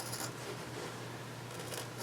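Scissors snip through thick carpet for a third-generation Camaro IROC-Z lower console in a couple of crisp, close cuts over a steady low background hum.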